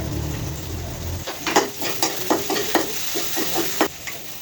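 Three XL eggs frying in a pan give a steady sizzle, joined after a moment by a series of sharp, close scraping and tapping strokes of a utensil against the pan.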